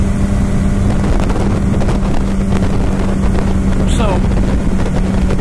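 Heavy wind buffets the microphone as a motorboat speeds across the water, a steady loud roar over a low engine drone, with a brief word spoken partway through.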